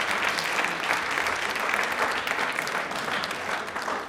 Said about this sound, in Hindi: तालियां जोर से शोर से बजनी चाहिए प्लीज।